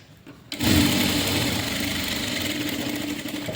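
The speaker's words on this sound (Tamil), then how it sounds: "அப்படியே திருப்பி லைனிங் கிளாத் மேலே படிமான தையல் போட்டுக்கிட்டே வரணும்" A sewing machine stitches over blouse lining cloth, its motor kicking in after a brief quiet start and then running as a steady, close, continuous whirring hum.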